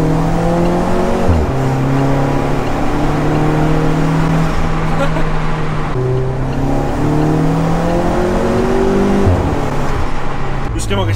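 A 400 hp Alfa Romeo 4C Spider engine revs up loudly through repeated gear changes, its pitch climbing and dropping back with each shift in a close, continuous run.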